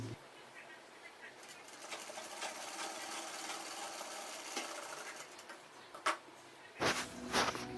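A sewing machine stitches fabric for a child's chudidar kurti, a faint rapid mechanical whir running steadily with a few louder clacks near the end.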